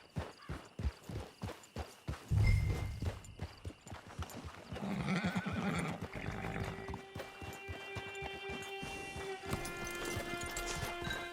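A horse in the video game Red Dead Redemption 2 clip-clops along with steady hoof beats, lets out a loud whinny partway through, then slows as tonal game music swells.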